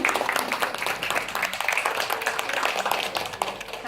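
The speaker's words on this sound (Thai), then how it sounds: "ขอเสียงปรบมือค่ะ" Audience applause at a Thai farewell gathering honouring two teachers, steady dense clapping from a room of people for several seconds, moderately loud, with a faint voice underneath.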